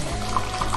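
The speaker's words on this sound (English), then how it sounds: "you add the tea back to the teapot, and you do this a few times to mix the sugar with the tea and the fresh water" Sweetened Moroccan mint tea poured from a height back into a teapot, a short, loud, steady splashing stream.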